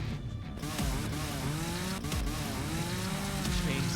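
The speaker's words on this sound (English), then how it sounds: "You hear the sound of think almost that sound of a chainsaw starting up at the far end of that hallway" Chainsaw-like motor roar from a far hallway, a dense rising-and-falling engine whine with wavering harmonics running steadily under constant noise for the whole span.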